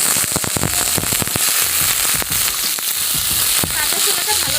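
Raw chickpeas crackle and spit loudly in hot tempering oil flavored with grated ginger, a dense steady sizzle broken by sharp popping bursts throughout.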